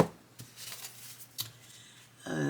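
A deck of Beauty of Horror tarot cards is shuffled sideways by hand, giving close, soft riffling flutters with two crisp snaps between them and a denser burst of shuffling at the end.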